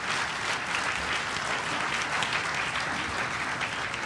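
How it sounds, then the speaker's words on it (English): An audience at a CES 2012 tech presentation claps for a panel, producing a steady, full round of applause that fills the whole moment without pause and with no talking over it. "I'd like to give a round of applause to our backpack panel here"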